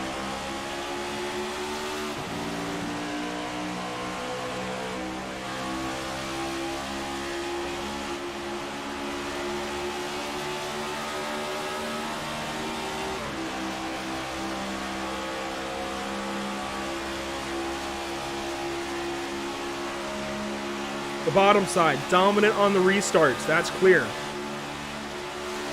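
Race car engines in a sim racing oval event, the Norctona 500, a sustained drone of multiple cars at speed with shifting pitches as the field jostles, under continuous commentary and a brief burst of higher-pitched tire or engine noise near the end.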